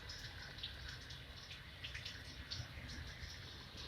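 Water runs out steadily while a Hyundai Eon cooling system is flushed, a soft continuous splashing trickle with faint drips, heard alone and fairly quiet.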